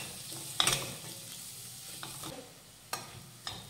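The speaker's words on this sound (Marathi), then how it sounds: "2 ते 3 मिनिटं हा कांदा व्यवस्थित परतून घेतलेला आहे" Finely chopped onion sautéing in a pan, a soft quiet sizzle broken by a few sharp stirring scrapes of a spoon against metal, with no voices.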